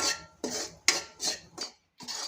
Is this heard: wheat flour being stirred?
yes